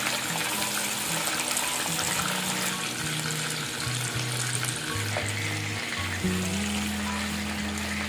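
Dried fish frying in a pan for an Andhra-style drumstick and dried fish curry, a continuous close sizzle and bubbling with occasional stirring, no speech.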